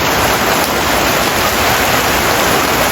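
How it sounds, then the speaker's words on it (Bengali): Heavy rain pours down in a dense, steady roar, close and loud throughout. "এখানে শুরু হয়ে গেছে ধুম বৃষ্টি"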